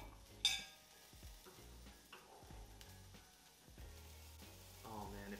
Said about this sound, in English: when you hear meat just sizzling